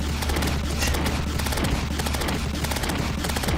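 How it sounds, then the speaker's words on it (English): A gun in the video game Terraria fires rapidly at a crocodile, producing dense, continuous bursts of shots over a low rumbling game soundtrack, loud and unbroken. "Let's shoot it with our gun."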